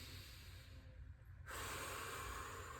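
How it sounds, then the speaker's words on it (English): Slow breathing during a supine twist exercise, a soft, close airy exhale that swells into a louder, steady rush of breath partway through, heard alone without talk. "And now we breathe."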